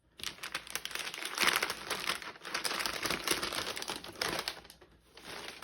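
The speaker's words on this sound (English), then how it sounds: "I'm gonna cut the soap now" A loaf of homemade soap, cured about 24 hours, is sliced through with a knife, giving a close, continuous rasping, crinkly scrape that swells and fades over several seconds.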